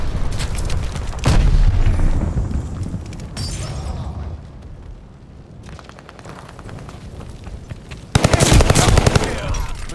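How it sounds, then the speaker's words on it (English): Heavy explosions and rapid gunfire rumble through a Call of Duty Vanguard multiplayer match as an enemy glide bomb strikes, with loud booming bursts at the start and a fresh blast near the end. "Enemy glide bomb incoming!"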